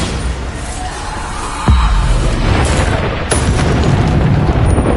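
Bombarda spell blasts in Hogwarts Legacy, a sudden deep boom midway followed by a second sharp burst, set against a constant dense background of game effects and rumble.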